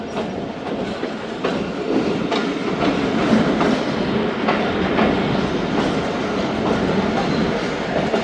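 The Thal Express rolls into Muzaffargarh railway station, its wheels keeping up a steady clickety-clack over the rails with a continuous close rumble throughout.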